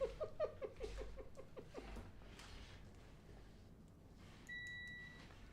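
An electronic device beeping during a homemade USB cable-making test, a steady high tone near the end, faint and brief, following some earlier squeaky chirps.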